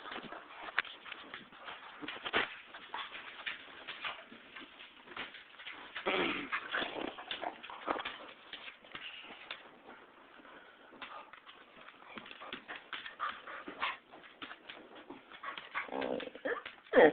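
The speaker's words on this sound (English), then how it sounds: "What are you doing there, doggies?" Dogs whimper and whine on and off, soft high-pitched cries and small yips overlapping close by, with light shuffling movement between them.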